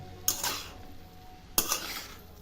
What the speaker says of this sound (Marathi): असं चांगलं असं तुपात भाजून घ्यायचं आहे